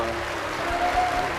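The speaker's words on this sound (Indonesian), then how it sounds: "Tepuk tangan dulu." Brief audience applause at an Islamic lecture event: steady, dense clapping from a crowd that swells slightly near the end, with a faint voice underneath.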